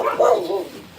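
At an animal shelter, a dog gives a short, close bark or yip with a brief whimpering tail, lasting about a second.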